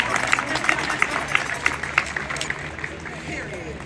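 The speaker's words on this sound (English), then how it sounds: "So give them a round of applause." A crowd at a Black Lives Matter protest applauds poets with steady, fairly close clapping and a few cheers, the sharp claps standing out over a background murmur of voices.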